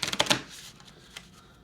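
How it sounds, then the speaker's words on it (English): Riffle shuffle of a deck of playing cards during a tabletop baseball game, a quick burst of crisp fluttering clicks up close lasting under half a second, followed by faint handling sounds. "I am going to shuffle just in case."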